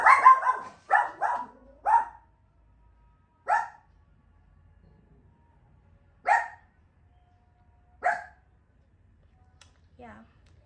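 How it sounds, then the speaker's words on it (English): A dog barks in sharp single and paired woofs, a quick cluster at first and then spaced-out barks with long quiet gaps, fairly near, ending with a softer whimpering yelp. "that's a dog without manners right there."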